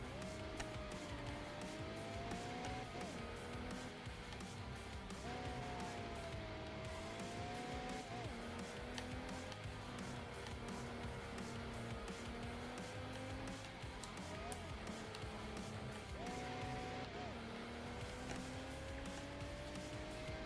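A car driving laps in the video game Mercedes Benz World Racing, the engine holding a steady loud whine that rises and dips with gear changes and cornering, with occasional tire squeal.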